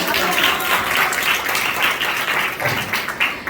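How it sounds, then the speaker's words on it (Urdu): A church congregation applauding loudly during a sermon, a dense continuous wash of many hands clapping at once, close and sustained throughout. "زوردار تالیاں بجائیں"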